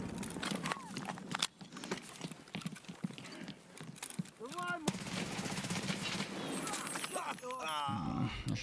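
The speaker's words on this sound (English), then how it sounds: "That shooting is scary." Bursts of automatic gunfire in Escape from Tarkov, a rapid series of sharp cracks, some distant and some closer, mixed with footsteps and other game noises while a person talks.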